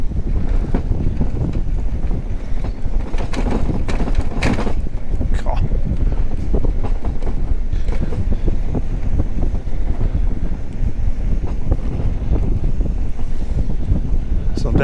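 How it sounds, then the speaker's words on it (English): Strong wind buffets the microphone while riding an Eskuta electric bike, a steady loud roar with gusty rumble throughout and no speech. "It's a bit windy today."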